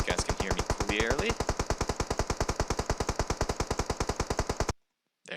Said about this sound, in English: let me just lower that volume from the gunshots so you guys can hear me clearly